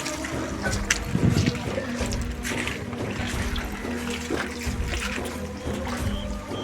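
Floodwater left by Cyclone Michaung rain rushes steadily past houses with a continuous close roar and gurgle, while faint voices and a low engine hum sit in the background.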